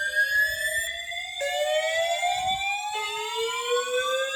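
A fire alarm system sounds a loud electronic tone that sweeps upward, resets, and sweeps again in repeating cycles, with faint low rumbles underneath and no talking.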